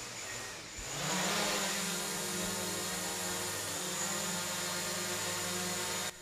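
A DJI Mavic Pro drone spinning up and flying on its propellers, a steady close whine with a constant buzzing hum that starts within the first second and holds to the end.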